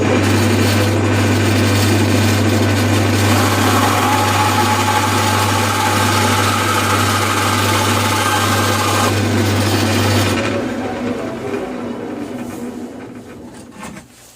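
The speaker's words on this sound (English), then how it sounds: "Now I'm going to go to the bandsaw" A bandsaw runs while cutting wood for a ring box, its motor a loud, steady hum with a brighter cutting whine partway through, then winding down and fading near the end.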